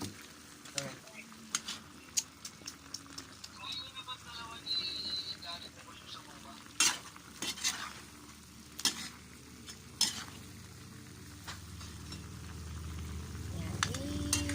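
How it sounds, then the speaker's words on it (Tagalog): Pork, long beans and bok choy being stirred in a pan, with a sizzling hiss under scattered clanks and scrapes of a utensil against the metal and some nearby talking. "haluin natin para mapailalim yung sitaw"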